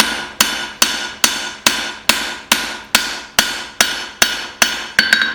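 A hammer beats the bevel of a steel cleaver on a forge. About a dozen sharp, ringing strikes fall close by in a steady, even rhythm, and the last blows come in a quick double.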